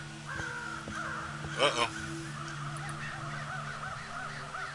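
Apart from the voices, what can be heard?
crows cawing in the Night of the Rabbit video game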